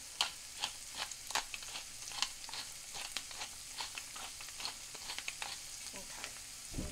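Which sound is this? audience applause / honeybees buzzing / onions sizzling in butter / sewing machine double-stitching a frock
onions sizzling in butter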